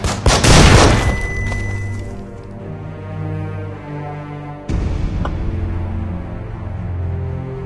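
A frag grenade explosion in the Breach & Clear tactical video game, one loud booming blast with a long rumbling decay, followed by a second, softer thud and lingering reverberation.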